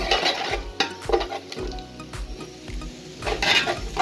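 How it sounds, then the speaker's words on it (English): Ground crayfish frying in a pot for Nigerian okra soup, stirred with a spoon: steady sizzling under repeated scraping and knocking strokes against the pot, close and clear, with no talk. "So the next thing is to add my already ground crayfish and stir."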